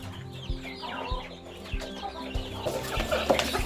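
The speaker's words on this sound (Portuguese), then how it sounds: "Aqui as frangas carijós" Barred carijó pullets cluck in a series of short, close clucks with soft background chatter of fowl.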